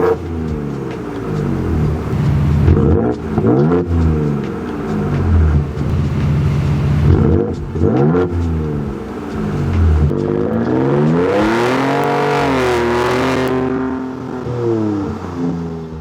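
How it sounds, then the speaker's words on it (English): A 2025 Ford Ranger Raptor V6 with variable exhaust revs loudly and up close, several rising and falling blips followed by a longer, climbing high-rev surge, with no talking. "this has variable exhaust, so you can make this louder or less loud depending on your preference"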